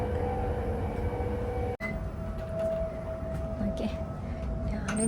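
Steady low rumble of a nearly empty passenger train running along the track, with a brief sharp dropout and faint tonal hums over continuous rolling noise.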